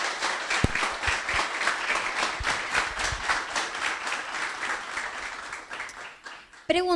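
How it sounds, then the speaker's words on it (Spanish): Audience applause for a guest speaker after a talk on scalable Unity architecture for indie developers, with rhythmic clapping rising in pulses and fading out, followed by a brief burst of talking at the end. "Un aplauso"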